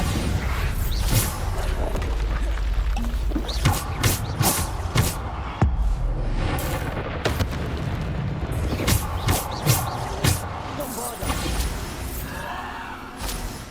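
Bombarda spell explosions in Hogwarts Legacy crash and boom repeatedly amid dense, loud game combat, with shattering bursts and rumbling impacts layered throughout.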